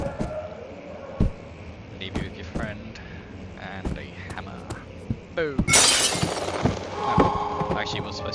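A hammer smashes something in the horror game Amnesia: The Dark Descent, a loud crash with scattering debris midway through, set among sparse thuds and knocks while someone talks over the scene.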